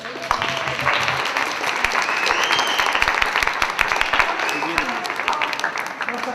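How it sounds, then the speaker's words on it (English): A scriptwriting workshop audience at a film festival breaks into loud, dense applause that carries on steadily throughout, with voices faintly mixed into the clapping. "let's give these ladies a round of applause"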